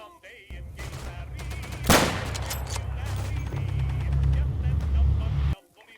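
Rapid rifle, submachine gun and machine-gun fire with a sharp loud blast in Day of Infamy, a World War II shooter game, crackling continuously over a rumbling low background.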